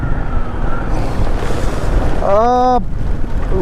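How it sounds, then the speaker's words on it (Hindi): Strong gusty wind buffeting a motorbike and rider on a mountain road ride in northeast India, a loud roaring rush of wind noise with a short whistling tone and a voice briefly heard. "Wind is so fast that it's pushing the bike."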